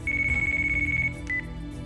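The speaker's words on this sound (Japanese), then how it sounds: "電話鳴ってます。" A phone rings inside the Yakuza Kiwami video game: one steady electronic ringtone tone held for about a second, then a short second beep, over a low background game hum, with no talking.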